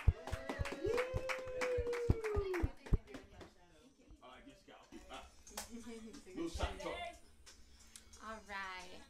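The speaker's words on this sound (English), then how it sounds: "let's give a round of applause for Brandy Mendez" Audience clapping at a poetry night, a brisk burst of applause from a small crowd, fading after a few seconds as a voice talks over and after it.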